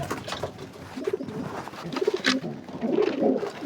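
Pigeons kept in a loft coo repeatedly at close range, soft throaty calls in an uneven rhythm over a gentle background hiss.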